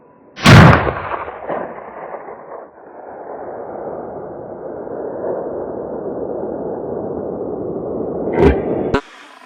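A .308 Winchester rifle with a 16-inch barrel fires at a target about 1,115 yards away: one sharp, loud crack, then a long rolling echo, and a second brief burst just before the end.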